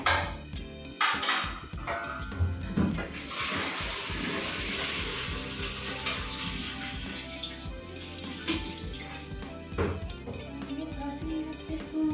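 Water being drained off a pot of cooked rice in a home kitchen: a steady, continuous pouring and splashing runs through the whole stretch, with occasional clinks of the pot and lid, close and fairly loud.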